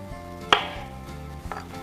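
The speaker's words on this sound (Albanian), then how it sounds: "Ne vazhdojmë të presim edhe ca domata, sepse na duhen më tepër" A knife chops tomatoes on a cutting board while preparing pancake batter, with one sharp, loud chop followed by a softer second cut about a second later.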